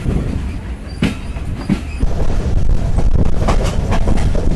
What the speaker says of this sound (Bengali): বাংলাবন্ধ এক্সপ্রেস বিশাল কাঠ নিয়ে এগিয়ে যাচ্ছে রাজশাহী রেলওয়ে স্টেশনের দিকে।